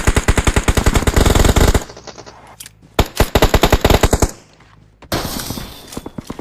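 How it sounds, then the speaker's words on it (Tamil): Rapid automatic gunfire from the BGMI battle royale game rattles out in loud, dense bursts, cutting off, then firing again in two more volleys separated by short quiet gaps. "நான் ஒரு புல்லட் தான் சுட்டு விழுந்துட்டான்"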